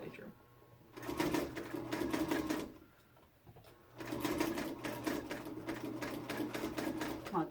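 Sewing machine stitching a circular hot pad, running in two long loud bursts with a brief pause between, its rapid needle clatter steady and close, with speech also present.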